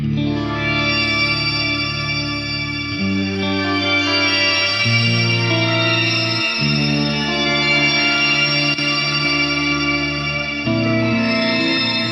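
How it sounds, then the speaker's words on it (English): Sustained electric guitar chords smeared by a shimmering, stretched delay, with layered echoes blending into a dense, continuous wash of sound. "This is using, I believe, the time stretch delay, which is pretty unique."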